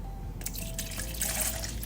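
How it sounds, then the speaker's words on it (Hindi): Water is poured into a shaker or glass, a close, steady trickling splash that runs for a couple of seconds over faint background hum. "ये रहा, पानी डाल दो आप,"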